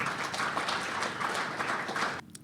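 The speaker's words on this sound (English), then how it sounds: "round of applause for Chris" Audience applause for a speaker at a security conference talk, a full, even patter of many hands that cuts off abruptly near the end.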